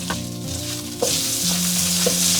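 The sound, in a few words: cured pork (larou) stir-frying in lard to render fat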